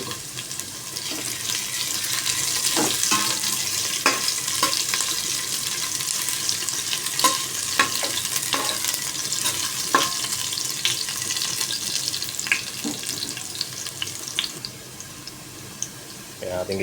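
Squid, garlic and ginger stir-frying for squid adobo with green bell pepper, a steady sizzle with scattered clinks and scrapes of stirring, close and continuous without pause.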